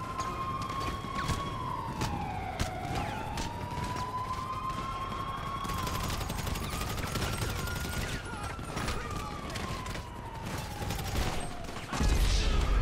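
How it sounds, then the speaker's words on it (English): Gunfire rattles toward the player in a video game, sharp shots over a wailing siren that rises and falls, with people talking throughout. "I'm getting shot at."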